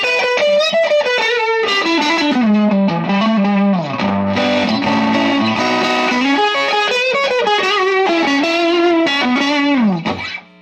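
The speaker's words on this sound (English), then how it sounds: "this pedal definitely has a lot of gain on tap" Electric guitar played through a high-gain overdrive pedal with gain, tone and volume turned up, giving a loud, saturated distorted tone across roughly ten seconds of riffs and sustained chords before it cuts off; no talking.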